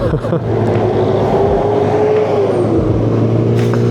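Honda CB400 VTEC motorcycle engine running at a steady idle-to-mid rev, with a continuous close rumble and a gently rising then falling pitch.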